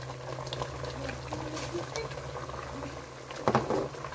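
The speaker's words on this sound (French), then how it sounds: "Une fois la sauce a bien bouilli et que nous constatons que l'huile a bien incorporé l'eau" Red oil sauce for snails bubbling in a pot, a steady low simmering burble with a few louder pops near the end, no talk.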